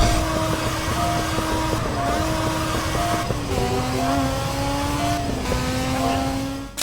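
A modded car in GTA San Andreas running with nitro, its engine droning at a high steady pitch with shifting tones, loud and close throughout with no voices.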